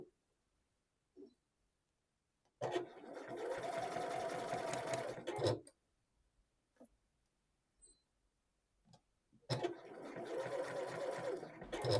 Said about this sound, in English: Sew slowly around the pocket bag.